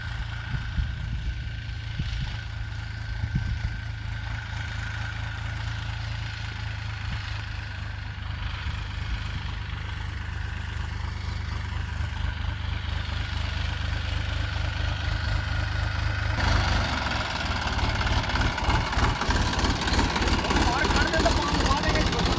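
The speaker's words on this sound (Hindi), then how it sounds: "ट्रैक्टर अच्छा भाग रहा है।" Tractor pulling a hydraulically lowered rotavator through a field, a steady close engine drone that grows rougher and louder toward the end as the blades churn soil, with someone talking over it.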